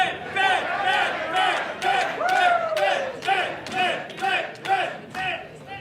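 Pro wrestling crowd cheers in rhythmic waves of shouting and chanting at a live event, loud and close, with a few individual voices standing out.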